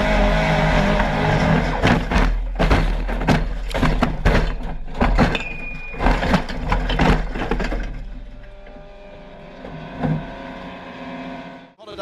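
Race cars crash on the opening lap at Alton Park as a championship leader is taken out at the first corner, with loud roaring engines and sharp impact bursts, then a quieter stretch where the engine noise thins out.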